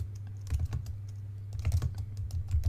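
Close typing on a computer keyboard, quick bursts of key clicks in two clusters separated by a short pause, with a steady low hum underneath.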